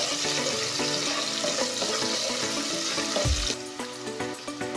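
White onion frying in a pan while being stirred, a steady bright sizzle with soft scraping from the spoon, close and continuous, with a brief low thump near the end.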